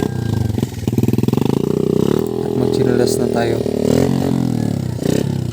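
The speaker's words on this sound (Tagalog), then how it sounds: "naghanda na magpaandar ng motor" A motorcycle engine starts and revs in a muddy rural setting, a loud pulsing idle swelling into throttle bursts close by, with people talking over it.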